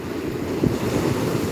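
Storm surge waves hitting a seawall about seven feet high along a boulevard in Bicol, a heavy continuous roar of surf and wind with one brief thump, close and loud, with no voices.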